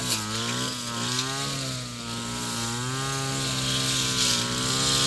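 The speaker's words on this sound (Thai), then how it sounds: "แล้วก็ให้ยืมเครื่องตัดหญ้าของลุงชู" A small two-stroke brush cutter engine whines steadily close by, its pitch wavering up and down as the throttle shifts, outdoors in rural Thailand.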